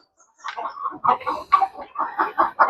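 Native country hens cluck close by on a small poultry farm, a run of short, bubbling clucks following one another in a quick, uneven rhythm.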